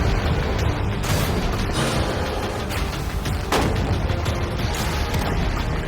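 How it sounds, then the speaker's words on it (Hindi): Series of gunshots fired at a shipping container outdoors, several sharp reports with a prominent loud crack near the middle, over constant rumbling background noise. "पहले बाकी शॉट्स फायर कर लेते हैं"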